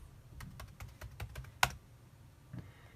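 Keys tapped one by one on a computer keyboard while a password is entered during an iPad 4 iCloud bypass over SSH ramdisk, about a dozen soft clicks in an uneven rhythm with one sharper, louder strike, close and quiet.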